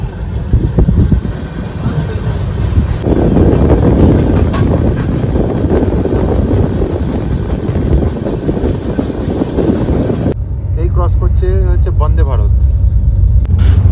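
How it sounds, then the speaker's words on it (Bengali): The Dooars Express pulling out of Kamarkundu station from platform 3, a loud continuous rumble and rattle of carriages heard from on board, with a voice talking over it near the end. "তো এটা কামারকুণ্ডু 3 নম্বর থেকে ছেড়ে বেরোচ্ছে।"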